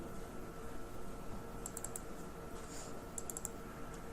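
Short bursts of typing on a computer keyboard while entering text into a number field of a React app: a quick cluster of light clicks midway and another near the end, faint over a steady background hum.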